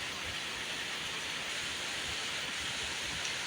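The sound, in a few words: rain falling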